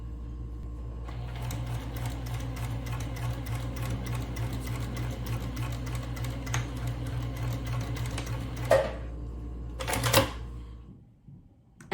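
A sewing machine stitches in a fast, steady mechanical rhythm for several seconds, pausing briefly near the end with a few clicks before stopping.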